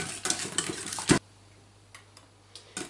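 Eggs being whisked with coconut sugar in a bowl, a rapid clattering rush of whisk strokes for about a second, then quiet with a few faint taps.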